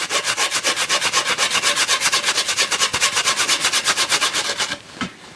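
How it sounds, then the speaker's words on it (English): Rhythmic back-and-forth scraping of sandpaper on a wooden longbow, working through grits from 120 to 600, fast and even strokes close up, stopping abruptly near the end with a final rub. "sand it from 120 grit all the way down to 600"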